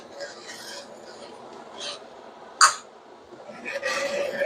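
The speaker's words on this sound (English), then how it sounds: "Now stir in your heavy cream." Heavy cream being stirred into a peppercorn pan sauce for boneless ribeye, giving soft scraping, rasping strokes in the pan, close and moderately quiet, with a brief sharper clink near the middle and no talking.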